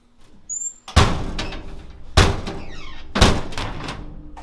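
Three heavy door thumps of a 1928 Ford Model A rat rod ring out one after another, each a solid slam with a brief rattling decay, close by.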